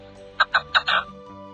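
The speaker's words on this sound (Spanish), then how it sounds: "La perdiz roja, Alectoris rufa, una de las más beneficiadas de estos pequeños oasis." Red-legged partridge (Alectoris rufa) calling in dry summer hill country, a short run of four harsh, clucking notes in quick rhythm, fairly close and clear against a quiet background.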